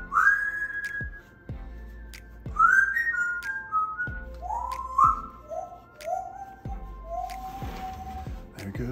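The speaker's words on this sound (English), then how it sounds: "There goes the bird." A pet bird whistles a song of rising and falling clear notes in short phrases, close by, with faint background noise and a brief voice near the end.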